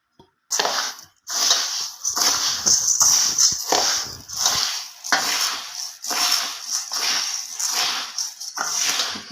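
Roasted jowar and rice grains being mixed by hand in a bowl make a close, gritty rustling and rattling in quick uneven bursts, with brief pauses between strokes.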